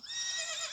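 Epona the horse whinnies in The Legend of Zelda: Ocarina of Time 3D, a single bright, high neigh that holds steady and clear for the whole moment with no talking over it.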